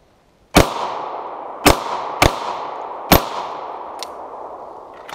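A Beretta 92FS 9mm pistol fires outdoors among boulders, four loud sharp cracks in an irregular sequence, each with a long decaying echo, followed by a fainter distant report near the end.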